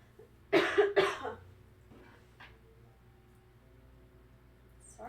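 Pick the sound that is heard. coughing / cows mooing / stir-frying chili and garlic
coughing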